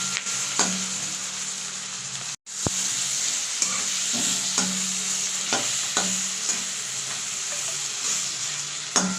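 Prawns fry in a pan with very little oil, giving a loud, steady hiss and sizzle with occasional soft utensil taps and one short dropout partway through.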